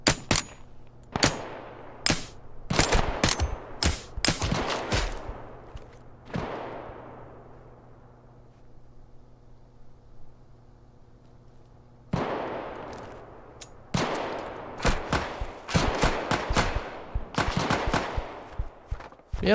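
Bursts of gunfire in the survival video game Rust (Duckside server), with sharp, loud shots in quick volleys, a quiet gap of several seconds, then another rapid string of shots.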